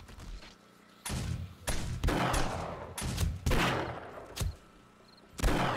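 Gunfire in the game 7 Days to Die: a string of sharp, loud shots at irregular intervals, some in quick pairs, each with a short decaying tail over a low background hum.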